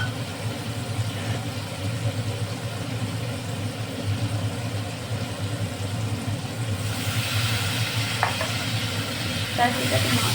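Spice paste sizzles steadily in a frying pan for a vegetarian potato curry, and the frying grows brighter and hissier partway through as a little water is added, with a few soft clinks near the end.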